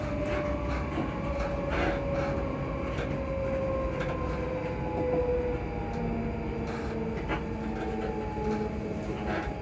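A train rumbles steadily along the tracks, heard from inside a carriage approaching Livingston North station, with a constant low roar, a faint whining tone and occasional rattling clicks.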